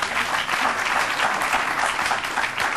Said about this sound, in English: The crowd's applauding